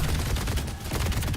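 Rapid automatic gunfire from a first-person shooter game, dense continuous bursts filling the whole moment, loud and close with no talk over it.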